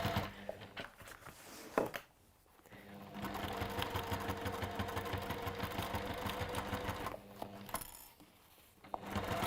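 A sewing machine stitches a long basting stitch in steady mechanical runs, with a brief pause near the second mark and another near the end, close and fairly loud with no talking.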